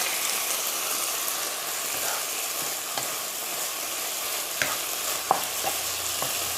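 Continuous close sizzle of hot basil with pork being stir-fried in an iron wok, a dense hissing frying sound broken by a few sharp scrapes and clanks of the spatula toward the end.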